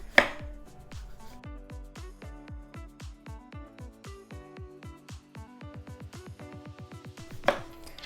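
A knife chops cucumber on a cutting board in a steady, even rhythm of about thirty crisp close-up strokes, with a sharper knock at the start and another near the end.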